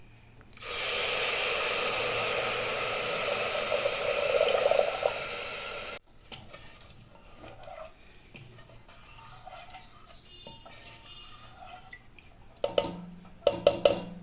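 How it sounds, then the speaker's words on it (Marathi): Water poured steadily into a cooker of roasted broken wheat for about five seconds, a loud rushing splash, followed by quieter clinks and handling sounds. "दलिया परतून झाला आहे आता पाणी टाकते"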